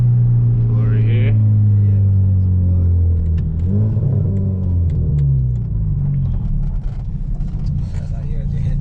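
A 300whp Genesis coupe's engine rumbles up close, revving and falling through several swells over a steady low drone, with people talking over it.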